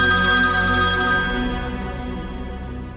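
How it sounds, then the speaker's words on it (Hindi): A phone rings loudly and steadily with a repeating electronic ringtone, the tone fading slightly toward the end, with no voices over it. "विपुल का फोन है।"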